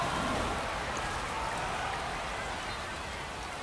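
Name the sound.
rain falling on baseball stadium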